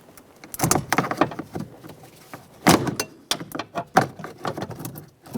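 A plastic trim tool pries at the interior rear door panel of a Jeep Patriot, giving a series of close clicks, snaps and scraping pops as clips release.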